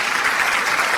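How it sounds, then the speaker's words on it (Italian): Studio audience applause greets a guest on a radio-TV entertainment show, a brief continuous burst of clapping. "Facciamo un applauso per Francesco Quadarella."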